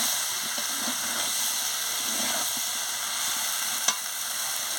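Soybean, potato and papaya curry sautéing in a pan, a steady close sizzle and hiss with soft stirring underneath and a single brief clink near the end.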